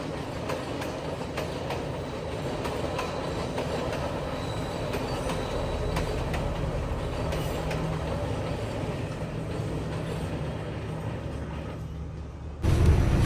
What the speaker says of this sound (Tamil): அந்த கேப்பில் ஒரு ட்ரெயின் வந்துட்டு அது வேறு ஸ்டைலாக போய்கொண்டிருக்கு